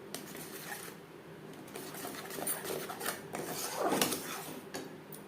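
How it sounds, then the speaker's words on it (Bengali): Spice paste cooking in a pan over a low-medium flame for an oil-based pointed gourd dish: a continuous soft sizzling hiss broken by rubbing, scraping utensil strokes and a few light metallic knocks. "লো টু মিডিয়াম ফ্লেমে 4-5 মিনিট মশলা কষিয়ে নেব"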